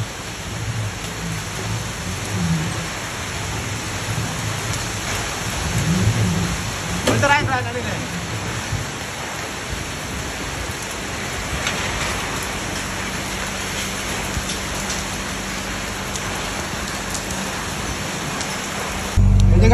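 Heavy rain mixed with falling hailstones pours down in a steady, loud hiss, with people speaking over the downpour partway through.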